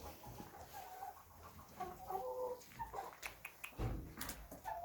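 Chickens cluck and murmur in a coop on a small farm in Portugal, a steady low chatter of hens settling for the evening with a few sharper calls, close and moderately loud.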